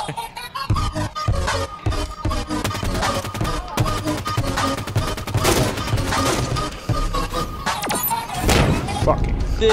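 Rapid gunfire from a Halo 5: Guardians multiplayer match, loud bursts and thuds packed densely over the whole stretch with no clear gaps, mixed with game sound effects.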